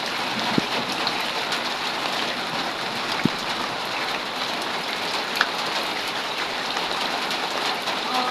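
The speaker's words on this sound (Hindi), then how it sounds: "बारिश हो रही है और मैं बारिश में नहा रही हूँ" Heavy morning rain falls steadily and densely during a storm, with a constant hiss of drops on surfaces and a few sharp drips, moderately close and with no talk.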